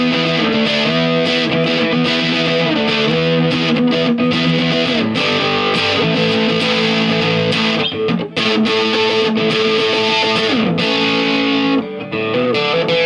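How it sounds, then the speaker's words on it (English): A B&H Filmosound 179 amplifier with built-in fuzz distortion plays a loud, gritty, sustained instrument line with shifting held notes and only brief breaks, with no voices. "it sort of got like a built-in fuzz distortion, and I just like the way it sounds"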